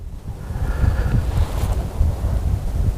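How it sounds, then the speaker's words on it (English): Gusty wind blows outdoors near Fall Creek on a cool December day, a steady low rumble of wind buffeting the microphone with rising and falling surges throughout. "There's some wind up above me, and there's some wind down below me, down below Fall Creek."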